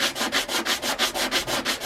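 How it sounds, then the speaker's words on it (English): A sanding block rubs back and forth across the face of a carburettor manifold on a Triumph Spitfire, stripping off old gasket remnants, in a steady rhythm of about ten close, loud, even strokes. "So get one of these sanding blocks and just very carefully"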